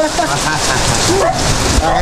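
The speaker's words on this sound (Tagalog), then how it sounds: "Patapos niya atang ulan, humina na." A short burst of rain hissing steadily on surfaces, loud and close, with a few brief voice fragments underneath.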